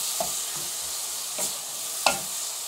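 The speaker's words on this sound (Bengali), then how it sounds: "চিংড়ি মাছটা একটু কষিয়ে নিব" Shrimp with spices sizzling in a pan, a steady close frying hiss broken by a few soft stirring scrapes.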